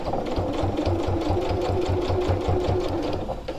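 A sewing machine runs steadily, stitching a reversible tote bag, its rapid needle rhythm holding at an even, close-up level throughout with no talk.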